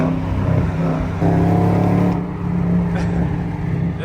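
A Dodge Charger SRT8 V8 revs loudly and close by in a deep, steady engine roar that swells in pitch and volume around the middle, then settles into a sustained drone.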